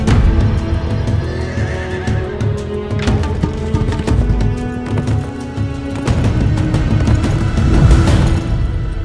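Horses thunder past during a Pasola ritual horseback contest on Sumba, Indonesia, in a continuous, loud rush of hoofbeats, with whinnies rising above the dense drumming of galloping feet.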